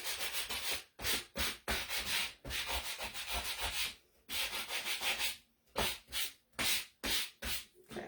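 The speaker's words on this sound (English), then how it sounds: "Let me sand this one down a little bit on the other side." Sanding a wooden gingerbread man shelf sitter by hand, a run of rough rasping strokes in quick bursts separated by short pauses, close and loud with no talking.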